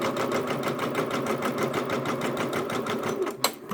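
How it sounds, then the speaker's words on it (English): A multi-needle embroidery machine stitches in a steady, rapid mechanical rhythm, close and continuous, ending with a brief click as it pauses. "now I'll hit start, get the warning, and hit start and let it stitch."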